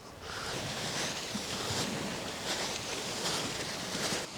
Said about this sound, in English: Now we are at the beach, at the sea.